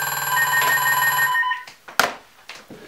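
A home telephone rings indoors with a bright, steady ringtone for about a second and a half, then stops, followed by a few faint clicks and handling noises.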